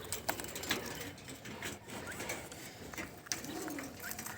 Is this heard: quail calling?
yes